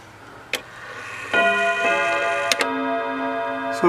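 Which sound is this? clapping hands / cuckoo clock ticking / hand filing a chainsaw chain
cuckoo clock ticking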